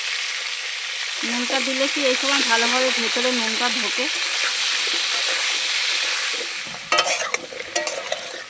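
Potatoes fry in hot mustard oil with a constant loud sizzle and hiss while someone talks over it, and a few utensil clatters come near the end.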